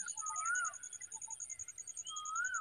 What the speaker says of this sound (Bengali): শুনতেই তো পেলেন পাখিগুলো কত সুন্দর গান করছে।